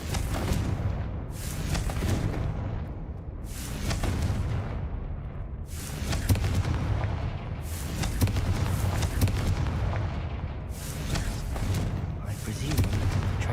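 Confringo explosion spells go off in Hogwarts Legacy, several booming blasts at a few seconds' interval, each a loud burst that decays into the game's ongoing ambience and voices.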